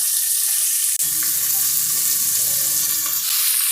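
Onions hitting hot oil with curry leaves and green chillies for a spicy mutton gravy, a loud steady sizzle that jumps after a brief clatter and crackles on continuously, with no talking.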